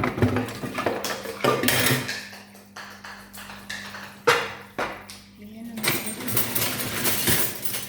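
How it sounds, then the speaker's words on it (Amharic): Metal spoons clink and clatter against each other while being washed, in sharp, irregular bright hits. A voice talks over the washing throughout. "እነዚህ ማንኪያዎች"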